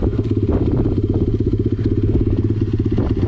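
A motorcycle engine runs close up with a rapid, throbbing rumble, steady and loud throughout.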